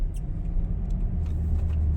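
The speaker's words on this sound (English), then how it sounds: "The shifts in this truck are so smooth that it's imperceptible." A 2022 Toyota Tundra twin-turbo pickup with a 10-speed automatic accelerating, heard as a steady low rumble from inside the cab, with no clear breaks between gear changes.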